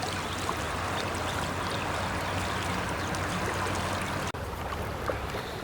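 The Shishamara river in Joldapara, northern West Bengal, gushes in a loud, steady, close wash of rushing water that runs continuously with no talk.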